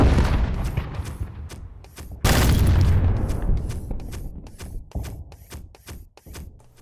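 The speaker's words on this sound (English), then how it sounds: "since I'm using a sniper rifle, let's hear the new gun sound." Sniper rifle shots in the video game MAV: a sequence of sharp, loud cracks, one especially heavy boom partway through, followed by more rapid snapping reports in quick succession.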